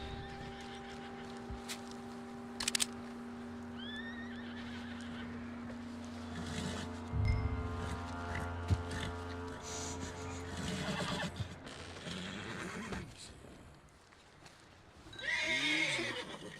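A horse in the Red Dead Redemption 2 video game whinnies loudly near the end, after hoof clops and sustained ambient game tones with brief faint voices.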